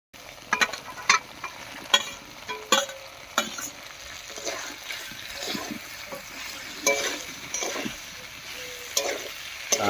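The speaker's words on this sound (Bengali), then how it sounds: "এবারে ভেজে রাখা ফুলকপিগুলো দিব।" Fried cauliflower is tipped into a pan of vegetarian curry and stirred, giving a steady sizzle broken by repeated scraping and clinking strokes of a spatula against the pan.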